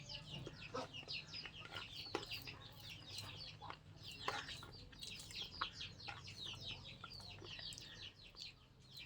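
Busy, continuous clucking and chirping from several native country chickens, including roosters, fairly close, layered into a steady chattering flock with a low hum underneath.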